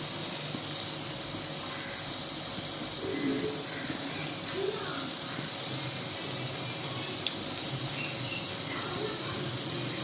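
Fennel seeds and a few peppercorns splutter in hot oil, a constant close hiss with faint scattered pops running steadily throughout.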